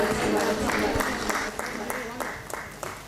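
An audience at a Kannada light-music memorial event breaks into applause to welcome a guest, a steady wash of clapping that starts loud and slowly fades over a few seconds.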